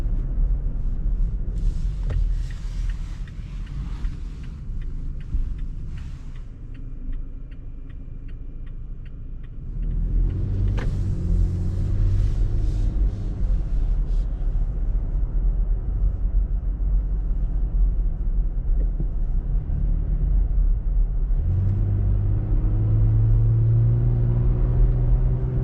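A 2021 Toyota Tacoma TRD Off Road with the 3.5L V6 gives a steady, low exhaust rumble while driving, with road and engine drone throughout and faint ticking.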